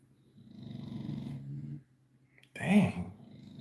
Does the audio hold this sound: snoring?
yes